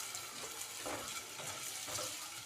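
Potatoes for an omelette fry in hot oil, giving a faint, steady sizzle with soft bursts of crackle and light stirring.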